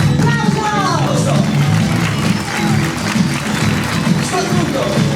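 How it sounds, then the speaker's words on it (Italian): An audience at a children's carnival festival in a parish setting breaks into applause, a loud, dense wash of clapping lasting several seconds, with crowd voices and chatter mixed underneath. "Applauso!"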